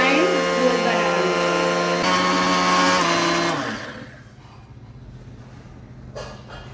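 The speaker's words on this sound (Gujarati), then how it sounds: "ભલે રવો ઝીણો જ આવે તો પણ આપણે એનો મિક્સર જારમાં પીસી દઈશું." A mixer grinder jar whirs loudly as it grinds semolina into fine flour, a steady high-pitched motor whine that runs for several seconds, then cuts off and spins down, leaving quiet background.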